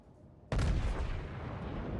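The main guns of the battleship Iowa fire in World of Warships, a single sudden deep boom that rolls on as a heavy sustained rumble, loud and close with no talking.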